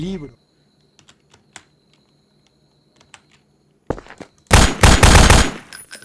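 Bursts of automatic gunfire in the Nextbots video game, preceded by a sparse run of faint clicks and taps, then a dense loud volley near the end, with a voice briefly at the start.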